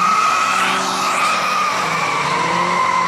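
An Audi 80 1.8T launches down a quarter-mile drag strip against a turbocharged rival, a steady loud rush of engine and tire squeal with a sweeping pitch change as it passes.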